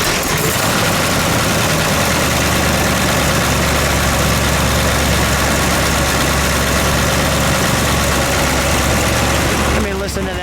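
A 1968 Chevrolet Yenko Camaro SS 427 with a four-speed idles loudly close by, a thick, steady rumbling burble that cuts off near the end, with voices audible beneath it.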